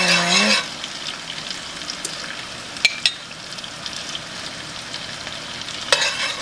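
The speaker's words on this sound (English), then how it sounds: "So to fry my corn, I'm going to use some bacon grease." Bacon grease for frying corn sizzles softly and steadily in a pan, with a few sharp pops and clicks, after a brief moment of talk at the start.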